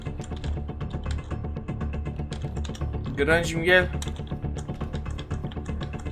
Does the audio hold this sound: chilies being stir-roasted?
no